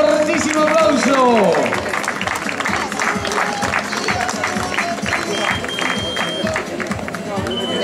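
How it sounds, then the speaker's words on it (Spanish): Spectators at a popular footrace in Carballedo applaud the fourth-placed women's finisher, a thick sustained patter of clapping and cheering from the crowd while an announcer's amplified voice talks over it throughout. "La carrera femenina, ese fortísimo aplauso."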